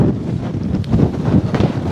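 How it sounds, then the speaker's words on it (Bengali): Strong wind on the Kumira sea bridge above a rough sea roars and buffets the microphone in a constant low, gusting rumble, close and loud, with no talking. "মানে আমাকে সহ ঠেলে নিয়ে যাচ্ছে আরেক দিকে, এতই বাতাস এখানে।"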